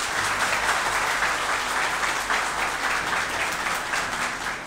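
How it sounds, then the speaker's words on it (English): Audience applause at an International Nurses Day ceremony at a university nursing institute, dense steady clapping from a large crowd, loud and sustained throughout. "In your big applause, please welcome Ms. Nasreen Ghani."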